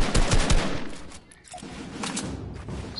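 Sniper rifle fire in a PS4 video game: loud, sharp bursts of gunshots crack out close and heavy, fade into a brief lull, then return at a slightly lower level.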